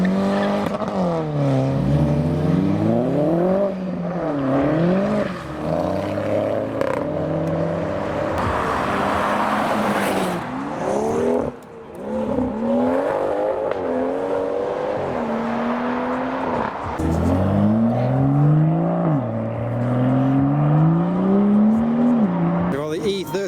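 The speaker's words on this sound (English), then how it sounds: "The Scirocco's doing a burnout with the police in the background." A modified VW Scirocco does a burnout as it leaves a car show, its engine revving in repeated rising and falling bursts at high volume, with tyre noise and crowd sounds around it.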